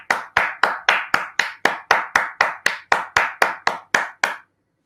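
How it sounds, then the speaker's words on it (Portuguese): Single hand claps sound in an even, steady rhythm, about fifteen sharp crisp strikes spaced evenly before stopping, close and alone with no talk. "vamos aplaudir esse grupo de professores aí"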